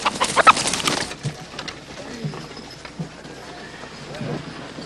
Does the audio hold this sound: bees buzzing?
no